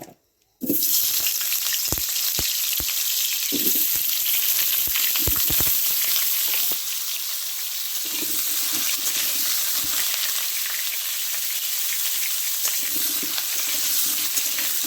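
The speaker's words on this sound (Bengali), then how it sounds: "আলুগুলো একটু লাল লাল করে ভেজে নিতে হবে" Potato pieces frying in hot oil in a wok, a loud steady sizzle and crackle running throughout with brief stirring clatters, close up and without speech.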